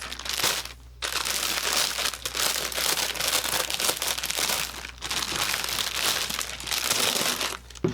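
Plastic packaging from a fitness subscription box being crinkled and crushed by hand, loud and close, in continuous bursts with a couple of brief pauses.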